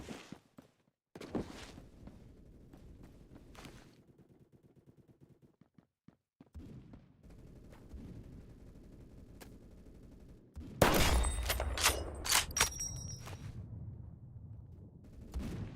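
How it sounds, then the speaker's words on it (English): Gunfire in Phantom Forces, shooting through walls: scattered single shots and short bursts with footsteps between them, then a loud, dense volley of rapid shots near the end. "It's a wall bang party up in here."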